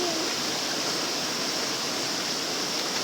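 Steady, dense rush of the Yellow Dragon waterfall in Tung Chung, Hong Kong, a constant broadband roar close by with no pauses or voices over it.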